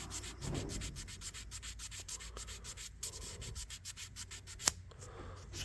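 Fine 2500 grit sandpaper rubs back and forth on a pocket knife bolster, a quiet, steady rhythmic scratching of close strokes with one sharp tap near the end.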